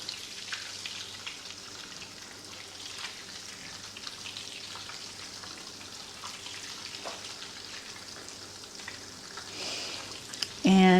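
Butter browns in a skillet with a steady, fine crackling sizzle like light rain, continuous and moderately close, with a brief clatter near the end.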